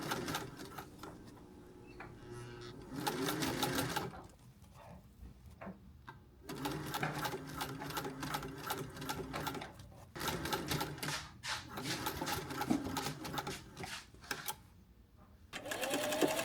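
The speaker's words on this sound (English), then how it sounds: "First, I'm sewing from the center." A sewing machine stitches cheap table mats into a hat, working from the center outward, its needle running in steady bursts with short pauses between passes, fairly close and alone without talk.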